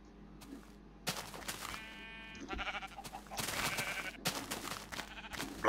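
Sheep in the Minecraft video game bleat several times in short, nasal bursts amid choppy game noise and thumps. The loudness rises and falls irregularly across the stretch, and no speech is clear.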